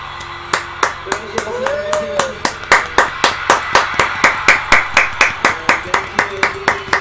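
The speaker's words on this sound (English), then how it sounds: "so I'm clapping like this" Hands clap in a steady, rapid rhythm at a live concert, loud and close, with a crowd and music under the claps.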